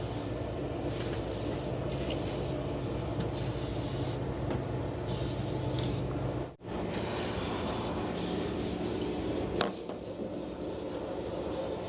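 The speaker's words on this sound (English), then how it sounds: "Spray it on that hot dang pump." An aerosol can hisses in long, steady bursts at close range onto a hot engine pump of a 1976 Chevrolet, with a couple of brief pauses between sprays.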